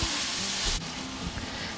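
Shrimp sizzle loudly in a hot pan while being stirred in for a Southern shrimp and grits dish with Gouda cheese and andouille sausage, a steady close frying hiss with a short dip partway through.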